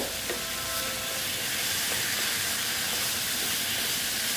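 Spiced fish masala for a mourola fish curry sizzles and hisses steadily in the pan, a dense, close frying crackle that holds unbroken throughout.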